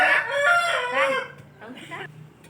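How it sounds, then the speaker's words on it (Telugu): A rooster kept near a house crows loudly and close by in one drawn-out call, followed by a fainter second call from another bird. "ఇవి మా అత్తగారి ఇంటి దగ్గర 2 కోడి పుంజులు ఉన్నాయి"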